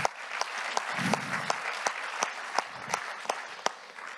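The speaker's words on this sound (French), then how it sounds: "Oui, on peut l'accueillir avec des applaudissements." Scattered, sparse applause welcoming a speaker onto the stage at a French conference event, with a few distinct hand claps ringing out steadily over a soft murmur, moderately close and fairly light.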